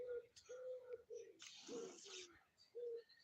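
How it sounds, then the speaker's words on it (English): Close, soft cooing dove-like bird calls repeat in short tonal phrases with a brief rustle in the middle, faint and alone. "We got a blackbird singing."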